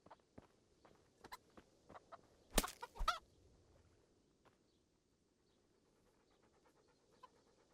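A dog named Mutt pants in the medieval video game Kingdom Come: Deliverance, a run of quick, soft breaths with a brief louder burst partway through, faint and quiet overall.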